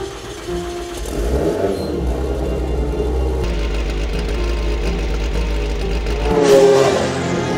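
A Kimera EVO37 four-cylinder engine revs hard close by, its mid-pitched snarl rising and falling through repeated blips with a strong surge near the end, and no voices over it.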